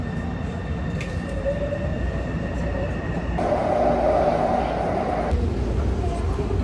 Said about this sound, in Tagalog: Just got out of the train.